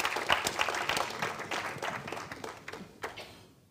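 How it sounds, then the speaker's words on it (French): An audience applauds with dense, lively clapping that gradually thins and fades out after a few seconds. "on peut encore les applaudir"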